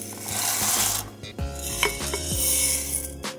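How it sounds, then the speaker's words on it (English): Dry macaroni, two cups, pours into a cooking pot with sugar-seasoned peas sauce, giving scattered hard clatters and rattles against metal, fairly close and alone. "And now I'm going to add the macaroni"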